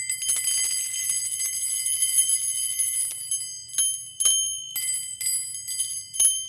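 Small bells rung around a person during a Native American healing, bright sustained ringing that shimmers continuously for a few seconds, then breaks into separate shaken bursts and pauses, close and fairly loud.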